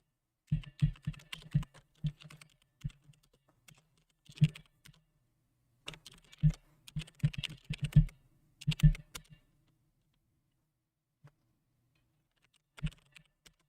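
Typing on a computer keyboard, close and clear: irregular bursts of quick key clicks with pauses between them, and a few lone taps near the end.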